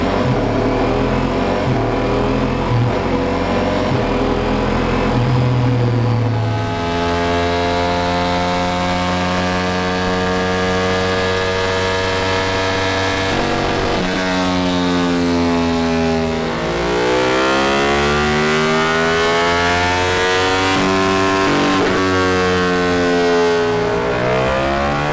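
A Ducati Multistrada fitted with a decat link pipe, running close up on a dyno with a sustained, loud exhaust drone that climbs through repeated rising revs and then drops back between pulls.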